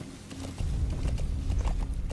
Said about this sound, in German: Dein Pferd findet dich.